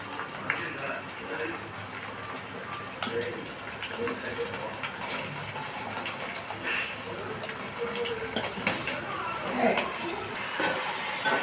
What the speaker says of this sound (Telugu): ఇప్పుడు మనం ముందుగా మ్యాగ్నేట్ చేసుకున్న పీతలండి వేసేసుకుందాం